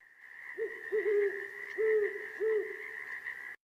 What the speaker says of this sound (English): for great horned owls, you actually often find that the males and females will sing duets of alternating calls